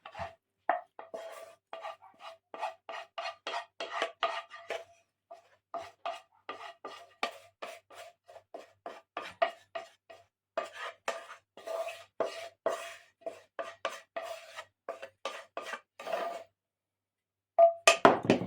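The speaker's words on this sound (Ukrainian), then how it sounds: "І ще раз перетовчую" Boiled potatoes being mashed again with a pestle after a fried onion topping is added, giving a steady run of soft, rhythmic thuds and squelches that pause briefly near the end before resuming.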